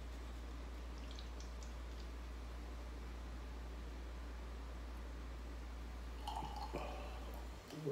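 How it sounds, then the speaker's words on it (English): Hard seltzer with real fruit, 6.0% ABV, poured from a can into a glass: a steady, soft fizzing hiss that runs throughout over a low hum, with brief splashing and dripping sounds near the end. "I'll pour some for Jeremy to try"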